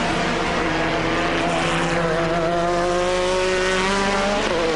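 FIA GT race cars at Silverstone in 2002, including a Porsche flat-six, approaching with loud sustained engine roar whose pitch climbs and shifts as several cars draw near.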